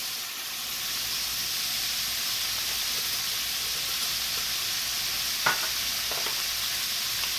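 Taco meat sizzles and hisses steadily in a pan as seasonings such as garlic powder are added, a constant close frying sound with a couple of faint scrapes.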